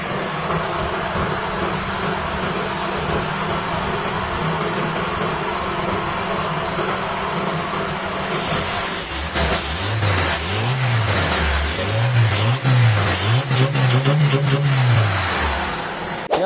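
A car engine with an unstable idle runs steadily for several seconds, then revs up and down in repeated rising and falling surges, loud and close.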